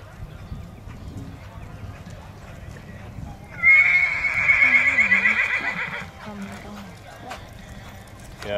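A horse at an MSCHA Limited Non-Pro cow horse boxing event gives a loud, close whinny lasting a couple of seconds, with hoofbeats and people talking throughout.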